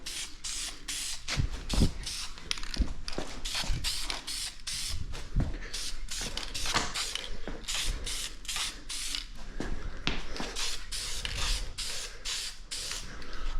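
Light coats of spray paint go onto parts in short repeated hissing bursts, each a second or so long, with brief gaps between them and faint creaks and handling noises, close by.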